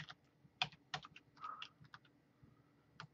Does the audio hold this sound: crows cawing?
no